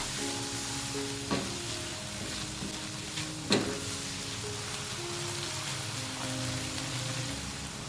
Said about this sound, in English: Add a little bit of salt to the ingredients while they are being sauteed. Continue to saute until the 2 minutes are up.